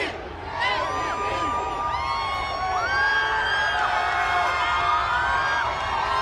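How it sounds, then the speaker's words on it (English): A large outdoor crowd at the Denver Nuggets championship parade cheers continuously, with layered whoops and high shouted voices blending into a dense, sustained roar. "Just soaking it in, all of the cheers."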